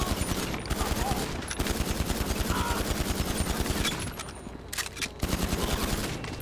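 Rapid pistol gunfire in the video game GTA Online, played on PS5, rings out as dense, fast, repeated shots that nearly fill the whole stretch, with short pauses and loud bursts near the end.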